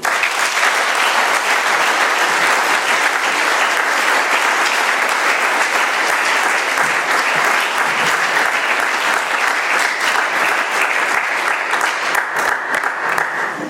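Sustained applause from the audience at an Alcoholics Anonymous meeting in Doylestown, a dense, even wash of many hands clapping that holds steady and loud for over ten seconds before easing slightly.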